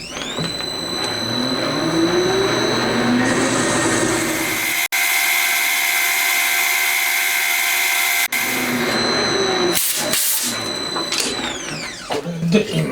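A lathe cuts the outer diameter of a plate part for a four-cylinder Honda Monkey engine, a steady loud machining drone with tonal whine that briefly drops away mid-cut and resumes, ending with clanks.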